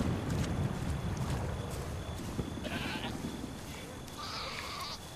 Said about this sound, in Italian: No, sono anche le pecore.